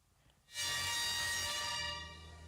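A train rolls in loudly after a brief quiet moment, a steady roar with bright metallic whine and rumble, sustained and close.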